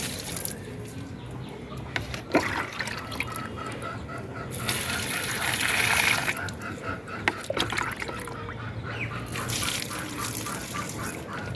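Water pours steadily onto plants for the whole stretch, a continuous splashing outdoors, with occasional knocks and faint poultry-like calls in the background.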